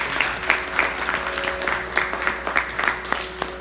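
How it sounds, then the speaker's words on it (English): Applause for the children at a music academy fundraiser concert, steady clapping from an audience with sharper individual claps standing out, plus a faint sustained tone underneath. "Give another round of applause to these kids."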